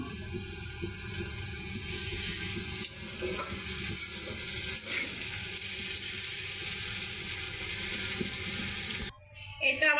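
Vegetables fry in a hot pan with a steady, loud, hissing sizzle and occasional stirring scrapes, continuing unbroken for about nine seconds before an abrupt drop.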